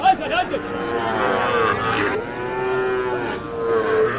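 Gir and Sahiwal cattle at a busy livestock market, with long, loud, close lowing moos that rise and fall over a murmur of background crowd noise.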